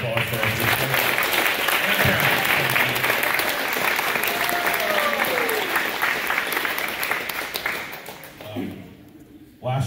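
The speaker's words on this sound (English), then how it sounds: "I want one more time to have a round of applause for our boosters" A round of applause at a high school boys varsity water polo banquet, sustained dense clapping from a crowd indoors, with voices underneath. The clapping thins out toward the end.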